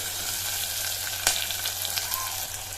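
Garlic and onion sauté in a pan for a bean curry, giving a steady close hiss of frying with a slight crackle and one brief clink partway through, no voices.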